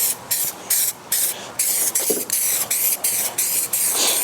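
An aerosol spray can lays down a final coat of paint at dusk, heard as a steady series of close, loud hissing bursts of about half a second each, with brief pauses between them and no talking.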